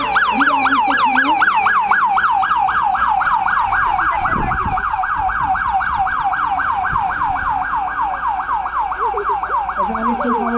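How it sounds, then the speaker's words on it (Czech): An ambulance siren wails in a steady, loud rising-and-falling pattern throughout, arriving at a staged police incident scene during a volunteer fire brigade anniversary demonstration, with faint road noise underneath. "Ano, už nám jede sanitka."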